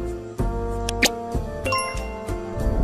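A notification bell sound effect rings out in bright dings and chimes over a steady tonal backing, several strikes spread across a few seconds, with no talking.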